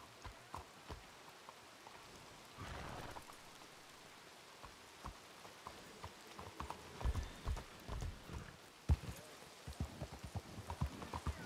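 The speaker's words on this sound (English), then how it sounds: "This rain is kind of loud." Rain patters in a video game alongside rhythmic clip-clop hoofbeats, with scattered sharp knocks growing busier toward the end, moderately quiet and without speech.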